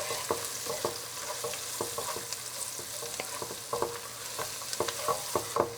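Spices with black and red pepper sauté in a hot pan, a steady sizzle and frying crackle broken by repeated stirring scrapes, close and alone with no talk.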